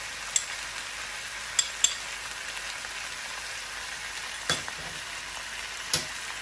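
Topside beef stir-fries in a pan with oyster sauce and greens, under a quiet, continuous sizzle broken by a few sharp spatula taps and scrapes.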